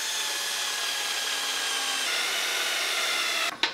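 A drill bores a hole through the side of 1/2-inch PVC pipe, a steady close whirring grind that stops abruptly near the end.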